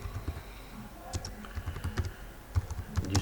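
Typing on a computer keyboard during Windows Server 2012 configuration: irregular close key clicks and taps in short bursts, fairly quiet, no talking.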